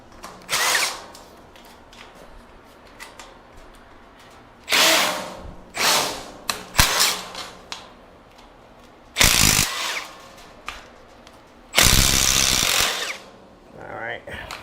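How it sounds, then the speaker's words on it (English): Power drill or impact driver removing a nut during assembly of a Moss Grills American Queen BBQ grill, several short loud bursts of whirring spread between quiet gaps and brief clanks, close up with occasional speech. "Let me go ahead and take the nut out of here."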